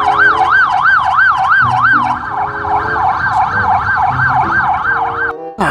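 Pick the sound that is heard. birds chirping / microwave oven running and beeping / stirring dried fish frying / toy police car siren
toy police car siren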